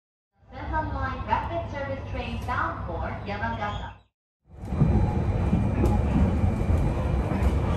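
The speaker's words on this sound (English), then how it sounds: "The train whistle, that calming clickety-clack sound" Yamagata Shinkansen train in motion, a steady loud rumble of wheels and carriage noise filling the cabin, preceded by a few seconds of voice-like announcement or chatter and a brief silent gap.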